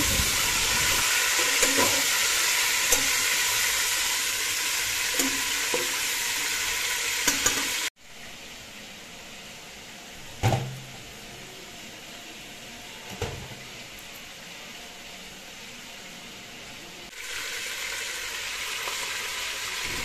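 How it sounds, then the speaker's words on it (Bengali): Chicken pieces frying in a pan with turmeric and salt give a dense, steady sizzle, stirred with a few scraping clatters. The sizzle drops sharply partway through, followed by soft knocks and a quieter hiss before it rises again. "চিকেনগুলোকে হালকা হলুদ আর হচ্ছে লবণ দিয়ে ভেজে নিচ্ছি"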